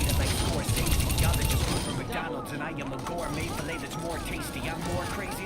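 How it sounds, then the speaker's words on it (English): Rapid machine-cannon fire from a tank hero in the video game Overwatch, a dense continuous rattle of shots under someone talking over it. "are machine cannons, which deal a good chunk of damage, as you can see, but it only has 80 bullets."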